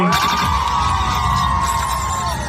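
Wedding guests ululate and cheer for the bride and groom, a loud, sustained trilling chorus over crowd shouting and whoops that continues without a break.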